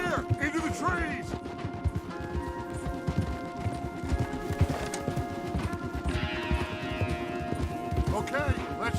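Rapid hoofbeats of horses galloping in Red Dead Redemption 2, a steady loud clip-clop rhythm with brief whinnies and game sound effects layered over it.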